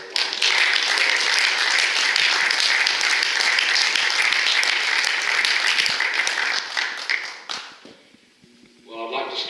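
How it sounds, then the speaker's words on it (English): A large audience at the 2019 Dogwood awards ceremony applauds loudly and steadily for about seven seconds, then the clapping fades and breaks off, leaving a brief hush before a voice begins to speak. "please give Charlie a round of applause"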